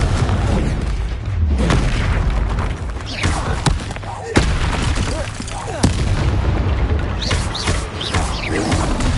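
Spell blasts from the fiery Confringo curse during a troll fight in Hogwarts Legacy, dense booming impacts layered over game music and effects, with a voice talking through the combat.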